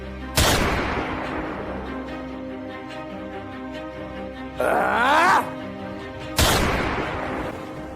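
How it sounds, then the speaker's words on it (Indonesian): Two sharp, loud gunshot bangs sound several seconds apart during a class XI school drama performance of Nyai Dasima, with a groaning voice in between and a steady hum underneath. "Dasima dan Sadeli pun meninggal secara bersamaan dengan ditembak oleh Menir Edward."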